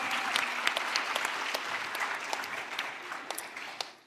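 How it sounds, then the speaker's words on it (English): Audience applause at a crypto conference session, a dense wash of many hands clapping that stays steady and fairly loud, then thins slightly toward the end. "let's give it a round of applause for native stables in Cosmos"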